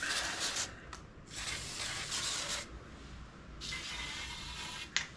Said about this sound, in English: we got to spray that with some grease